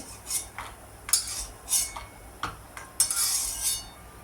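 Cooked rice scooped from a pot onto a plate, a handful of separate metallic spoon scrapes and clinks at close range against a quiet background, with no talking.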